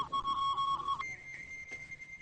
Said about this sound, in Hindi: अगर आपको ये आवाज आ रही है तो ये आवाज वो है जो फैक्स मशीन की आवाज है